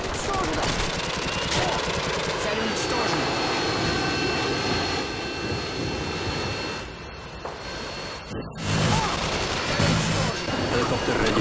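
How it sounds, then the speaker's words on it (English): Harrier jets roar overhead in the Modern Warfare 2 video game, a loud sustained engine rush that dips briefly and surges back, layered with gunfire and game radio voices. "Friendly Harriers inbound."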